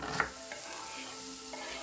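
Vegetables sizzle and crackle softly in hot oil, a steady quiet frying hiss with a few small pops.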